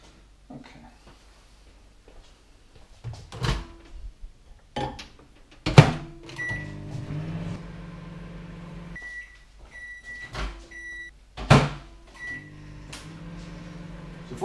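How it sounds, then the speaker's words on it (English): A microwave oven heats a bowl of baked beans, with its hum running under several door thunks and repeated electronic beeps spaced through the stretch, all fairly close and moderately loud. "put them in the microwave for 30 seconds, stir them around, put them back in for another 30 seconds"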